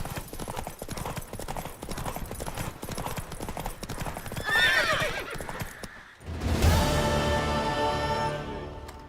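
A horse from The Witcher 3 gallops with rapid clip-clopping hoofbeats under a continuous rushing din, then gives a loud whinny as the hooves keep pounding.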